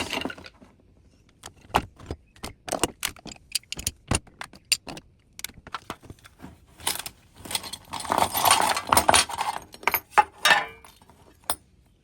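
Metal tools clink and jangle as hands rummage through a metal tin of Allen keys and small tools, with sharp irregular clacks and a busier stretch of rattling near the end, close and without talk.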